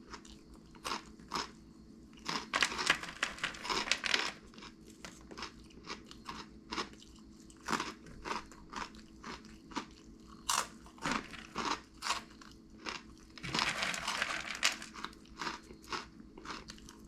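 Crunchy Flamin' Hot BBQ Cheddar Cheetos being bitten and chewed close to the mic, with loud crisp crunches in an irregular rhythm and dense bursts of chewing, no talking.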